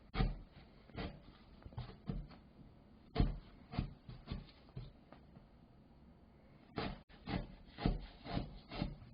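A small knife cuts the center out of apple bagel dough in a series of soft, close scraping and rubbing strokes with irregular pauses.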